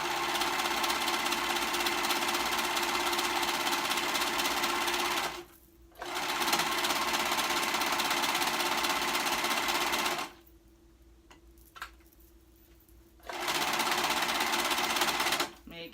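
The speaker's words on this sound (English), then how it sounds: "Same thing to the other side, stitching them together." A sewing machine stitches fabric pieces together in long, steady runs of rapid mechanical whirring, stopping briefly twice with short quiet gaps before starting again, close and clear.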